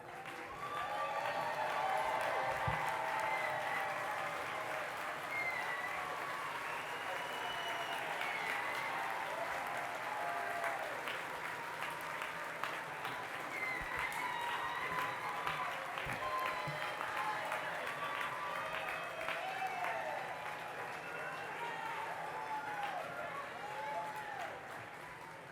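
Graduates at a business school commencement ceremony applaud their family and faculty, a steady, dense round of clapping from a large crowd filling a hall, with faint voices mixed in.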